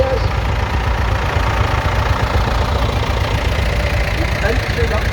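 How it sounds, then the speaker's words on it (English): A vintage tractor at an agricultural show idles with a steady low, loud chugging rumble that continues throughout at close range. "we've got one of Mr. Mullins' tractors"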